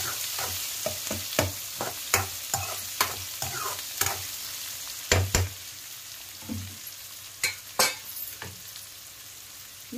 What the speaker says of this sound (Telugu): వేగిన తర్వాత ఆనియన్స్ సన్నగా ఆనియన్ కోసుకొని వేసేసుకోవాలి.